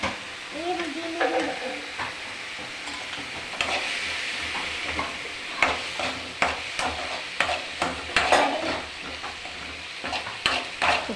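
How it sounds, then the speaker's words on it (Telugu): Boiled food with coconut frying and being stirred in a pan, giving a steady sizzle broken by repeated scraping strokes of the spoon at a close distance, with no one speaking. "ఫ్రై కావాలి, ఉడకబెట్టిన కదా ఆల్రెడీ ఇది, అందుకే కొంచెం ఫ్రై అయితే చాలు."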